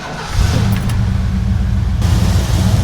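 A Ford car with fresh spark plugs pulls away, its engine rising to a loud, close, steady mid-pitched drone as it drives off, slightly uneven from a small misfire.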